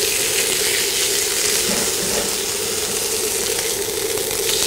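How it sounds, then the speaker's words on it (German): Rack of lamb searing in a frying pan with rosemary, a steady dense sizzle and crackle of hot fat running continuously and fairly loud throughout, with no talking. "Der Lammrücken wird dann in der Pfanne von beiden Seiten angebraten."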